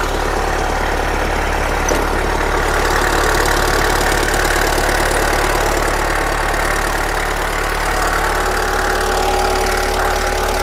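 A Kubota tractor engine idles steadily and loudly nearby, a continuous low rumbling chug with no pauses.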